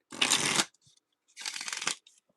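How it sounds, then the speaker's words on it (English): A deck of playing cards being shuffled by hand, two distinct riffling bursts close and fairly loud with a short pause between them and faint handling noises after. "when you shuffle cards, like for instance, if I'm shuffling these are easier."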